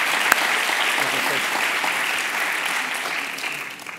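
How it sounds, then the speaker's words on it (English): A live audience gives steady applause after an on-stage talk with a startup founder, dense continuous clapping that holds for several seconds before gradually thinning. "let's give Whitney and Katrina a big round of applause"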